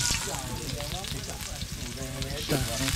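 Food frying in hot cooking oil, a loud continuous crackling sizzle close by, with voices talking faintly underneath.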